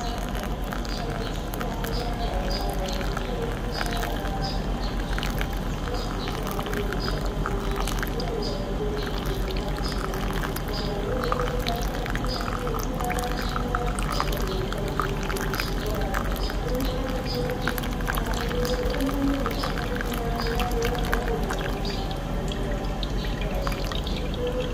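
Water poured from a kettle over ground Pacamara coffee in a Hario Switch paper filter, a soft continuous trickle and drip heard close up under a steady background hum, with no distinct pauses.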